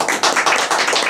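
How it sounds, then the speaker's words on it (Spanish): Audience applause at an academic presentation on rural-to-urban transformation, a dense burst of many hands clapping at close range, steady and loud for the whole second with no voices. "también un fuerte aplauso."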